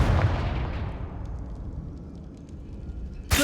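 A Confringo blasting spell goes off in the Hogwarts Legacy video game, a loud booming explosion that rumbles and slowly decays, followed by a sharp second burst right at the end.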